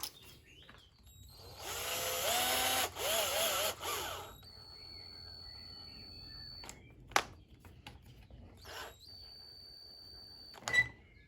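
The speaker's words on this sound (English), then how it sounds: "Going to just drill it open just a touch and then mount the shock." A power drill whirs in a steady burst of a couple of seconds, opening a hole in a broken 3D-printed part on a TRX4 model truck to mount a shock, followed by quieter tool noises, clicks and short high whines nearby.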